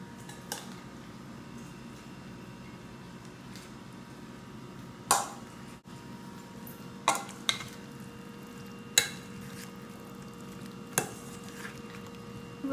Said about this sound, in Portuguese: E agora, gente, é só misturar.